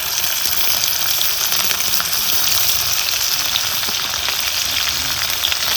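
Pounded red chili chutney frying in hot oil with bloomed cumin, a loud, dense, continuous sizzle that stays even and close throughout.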